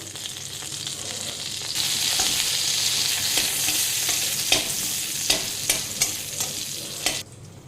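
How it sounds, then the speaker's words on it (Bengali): A dried red chili and whole cumin seeds crackle in a little hot oil in a kadai, a steady close sizzle that swells after a couple of seconds, broken by sharp spatula knocks and scrapes near the end. "এবার ওই কড়াইয়ে সামান্য অল্প পরিমাণ তেল নেবে, দিয়ে একটা শুকনো লঙ্কা, অল্প কিছুটা গোটা জিরে"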